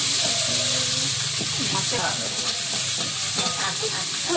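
Chopped onion fries in a little oil in a kadai-style wok, giving a steady close sizzle with scattered stirring scrapes and a brief voice partly beneath it.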